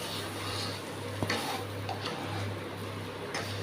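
Semolina being stirred together with vegetables in a pan for upma, a close, steady scraping and shuffling of utensil against pan with faint sizzling, no talking.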